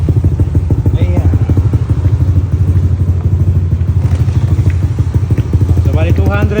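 A tuned 215cc motorcycle engine runs at a steady, loud idle with a rhythmic low throb, while someone talks over it much of the time.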